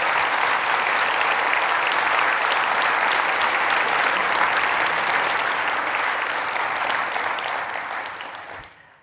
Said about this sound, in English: So can we give a little